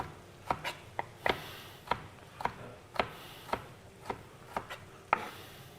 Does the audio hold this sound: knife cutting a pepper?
yes